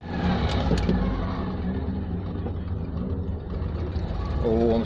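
Citroën 2CV twin engine idling unevenly, a low, rough, uneven putter that sags and recovers, heard close under a voice talking.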